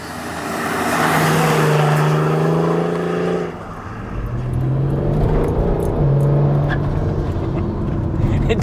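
A tuned Stage 2+ 400 bhp BMW E91 335d diesel estate pulls hard, its engine droning loudly from inside the cabin and climbing in pitch through two gears with a short dip at the shift.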